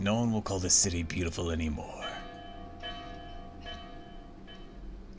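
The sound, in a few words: alarm bell ringing from a sentry tower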